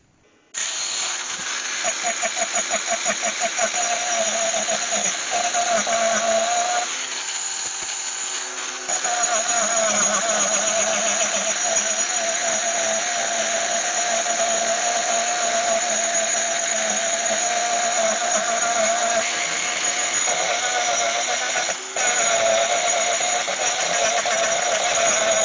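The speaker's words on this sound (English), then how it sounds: "So now I've gone in there with the swan neck grinder with that burr on the end." Proxxon swan neck rotary grinder with an arbor burr working the inside of a beech bowl, a high, steady electric whine running almost without pause, with a brief drop in pitch and load partway through.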